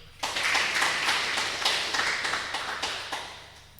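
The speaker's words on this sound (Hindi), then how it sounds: "तो अब ताली बजाओ।" Audience clapping in a spiritual class, a short burst of hands clapping together with loosely rhythmic peaks, close and moderately loud, tapering off.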